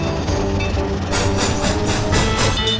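A steam train puffs and rolls along the tracks, with steady rail rumble and then a run of loud, rhythmic exhaust chuffs that begins about a third of the way in and continues evenly to the end.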